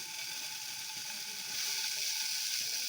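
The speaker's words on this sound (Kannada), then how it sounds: "ಕೋವನ ಬಿಸಿ ಮಾಡಬೇಕು ಎಲ್ಲ ಫ್ರೈ ಮಾಡ್ಕೋಬೇಕು" Khoa (mawa) fries in a hot pan with a steady, close hiss and sizzle that grows slightly louder partway through, with no voices over it.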